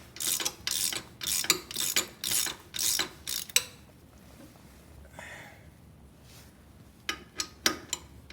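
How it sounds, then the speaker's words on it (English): Ratchet wrench clicking in rapid bursts while loosening front bolts on a 2016 Kawasaki KLR 650 during a crash bar install, close and loud, then a quieter pause before a few more clicks near the end. "we're pulling out these bolts that are attached in the front up here"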